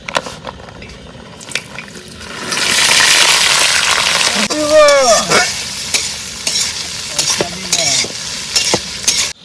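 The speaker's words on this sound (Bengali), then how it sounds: "চলো তেল গরম হয়ে গেছে, ক্যাপসিকাম, বিনস, গাজর, ফুলকপি সব ভেজে নেবো।" Capsicum, beans, carrot and cauliflower going into hot oil outdoors by a riverside, with a loud hissing sizzle that swells after a few seconds, plus clattering stirs and some squeaky scraping, close and strong.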